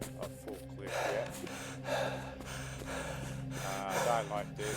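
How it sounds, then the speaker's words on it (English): In the SoulMask survival game, a creature breathes heavily in loud, repeated gasping and snorting breaths that rise and fall every second or so, with faint talk underneath. "I don't like this heavy breathing"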